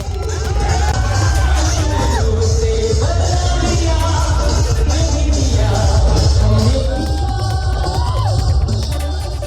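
A large crowd celebrating Dhairyasheel Mohite Patil's election victory in Akluj, dancing to a loud song: dense, continuous cheering, yelling and whoops with occasional bangs, all packed together at high volume.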